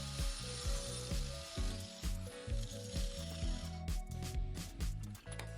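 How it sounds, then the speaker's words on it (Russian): Metal profile pipe offcut being cut along marked lines, a loud, harsh rasping cut with steady repeated strokes and a grinding mechanical rattle throughout, close to the microphone, with no voices. "Далее отрезаю по разметке."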